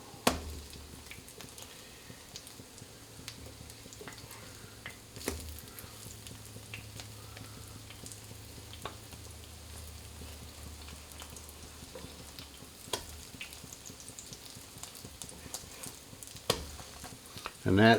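French toast coated in brown sugar fries in a pan with a steady close sizzle and crackle, occasional soft clinks and pops, and a low hum running beneath for much of it.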